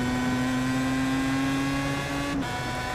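A Pro Mazda race car engine holds full throttle at Le Mans in a racing game, with a loud, steady high-pitched drone, then a brief shift blip near the end, and no talk.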